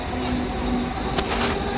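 A train rumbles steadily nearby at Seawoods station with a constant low mechanical hum and a faint sharp clatter near the end.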